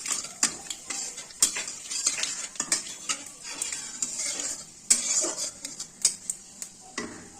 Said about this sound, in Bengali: এখন পাঁচফোড়নটা ছেড়ে দিচ্ছি।